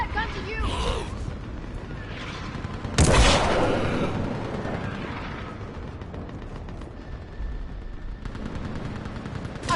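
Gunfire crackles through a Mass Effect battle, a loud burst of shots around the middle followed by scattered cracks and mechanical clatter beneath a steady rumble, with voices talking throughout.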